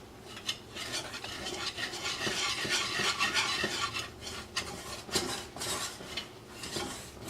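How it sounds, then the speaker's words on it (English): Flour is whisked into melted butter in a pan for a white roux, a close, quiet scraping and rasping stir in uneven rhythmic strokes with light clinks against the pan. "we add our flour, and we quickly stir it together to make a white roux"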